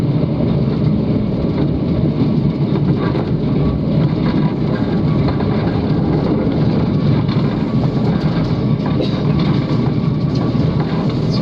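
Overlander passenger train climbing the Raurimu Spiral, a continuous loud rumble and rattle of carriages on the rails with wind noise, steady throughout with no talk.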